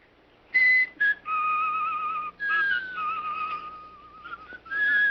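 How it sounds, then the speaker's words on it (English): A boy whistles through his teeth in a bright, reedy melody like a muted violin, phrases broken by short gaps and sliding between pitches, close and clear with no talk. "I met a boy that could whistle through his teeth"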